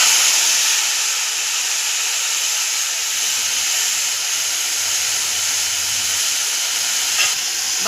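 Spice paste hits hot oil already holding dried red chilli, cumin, bay leaf and whole garam masala, releasing a loud, continuous, even sizzling hiss that holds steady close up with no voices.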